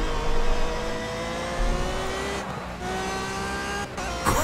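A Renault racing car in Project Cars on the Nordschleife track, engine droning close and loud with rising and falling revs, quick gear-change dips and a sharp burst near the end.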